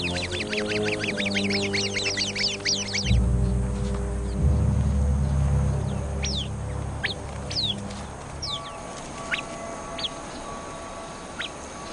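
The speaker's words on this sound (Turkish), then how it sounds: "Nöbetçi Arap kuşu hemen alarm verir." A flurry of rapid, harsh Arabian babbler alarm calls at the start, then scattered sharp chirps and whistles over a steady background of low rumbling noise.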